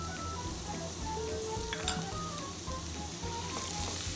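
Garlic sautés in hot oil for momo filling, a continuous close, crackling sizzle with light popping and occasional stirring clinks, no voices over it.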